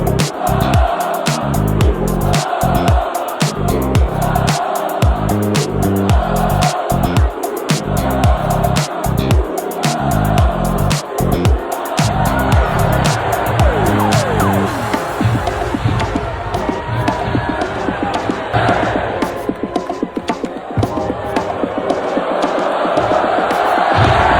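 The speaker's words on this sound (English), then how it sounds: "I'm sure you heard the crowd during that." A loud wrestling arena crowd roars and cheers throughout a WWE Raw segment, with booming music hits and commentary voices mixed over the sustained noise.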